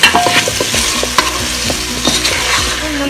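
Chopped tomatoes sizzle and fry in oil in a pan with ginger, green chilli and garlic while being stirred with repeated scraping, clinking strokes, close and steady with no talking.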